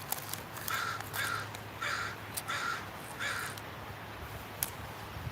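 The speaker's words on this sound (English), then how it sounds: "He's trying to get all the crows." Crows in a park give about five evenly spaced caws, moderately distant, over a quiet outdoor background with low wind.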